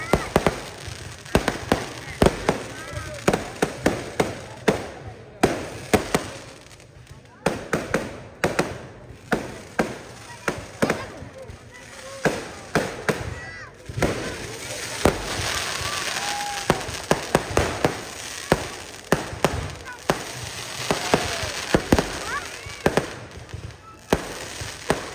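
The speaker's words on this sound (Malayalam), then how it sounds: "ഈ പടക്കം പൊട്ടുന്നതെന്ന് നിങ്ങൾ ഇരുന്ന് കേട്ടോളൂ" Firecrackers burst in a rapid, irregular run of sharp, loud cracks and pops for the whole stretch, a few clustered in dense volleys, with faint background noise between them.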